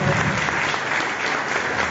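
Sustained applause from a symposium audience at a literary homage in Chimbote, a dense steady clapping that fills the whole moment with no voices over it.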